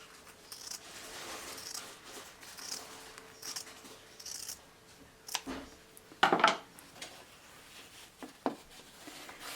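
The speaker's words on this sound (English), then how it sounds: "I do need to cut the excess here." Scissors snip through excess quilting fabric in a series of quiet, close cuts, with a few sharper clicks and taps from handling the blades and material between them.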